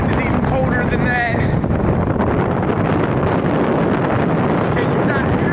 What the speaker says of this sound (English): The wind is blowing at about 75 fucking knots.